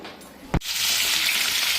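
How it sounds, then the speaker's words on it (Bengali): Cauliflower fries in a pan: a sharp knock is followed at once by a loud, steady hissing sizzle that fills the rest of the moment. "এই যে ফুলকপি ভাজা হয়ে গেছে"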